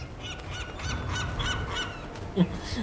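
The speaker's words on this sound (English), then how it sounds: "I think the gulls are getting slowly louder over time." Seagulls calling in the Broken Pieces video game: repeated honking cries over a steady low ambient wash, rising slightly in loudness, with a brief louder call near the end.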